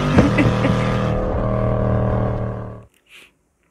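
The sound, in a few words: car driving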